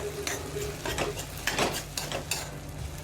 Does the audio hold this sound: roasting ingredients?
yes